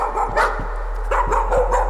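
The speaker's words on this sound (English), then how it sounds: "Oh, there's the dog!" Dog barking inside the horror video game Layers of Fear, a few short muffled barks spaced across the moment over an eerie ambient background, with no talking.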